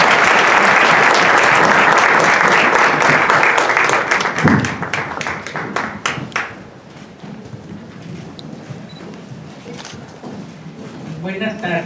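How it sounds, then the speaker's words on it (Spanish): Loud audience applause at an academic lecture on Jewish history in New Spain and Mexico, dense and sustained for several seconds before thinning into scattered claps and room noise. "Pido un aplauso, por favor,"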